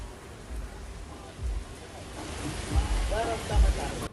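Steady broadband hiss of heavy rain over streets in Surat's Athwa Gate, Piplod, Rander and Adajan areas, continuous and enveloping, with a few low thuds and a faint voice partway through.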